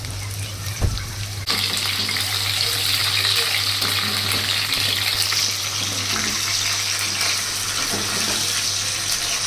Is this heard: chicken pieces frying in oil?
yes